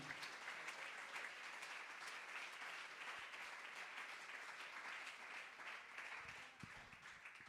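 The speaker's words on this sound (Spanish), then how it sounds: "Aplaudan al Señor, hermanos." An evangelical church congregation claps together in steady, dense applause that holds evenly throughout at a moderate distance, with no voice rising above it.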